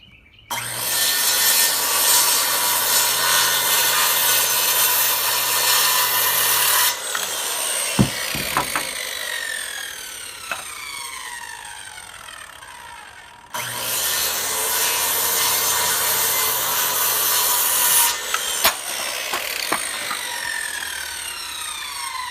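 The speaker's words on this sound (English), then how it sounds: "So now I'm going to take my circular saw and cut up these lines." A circular saw cuts rafter tails on a roof build, two long loud cuts of whining blade through wood, each ending as the saw spins down with a falling tone, with a short gap and clunks between them.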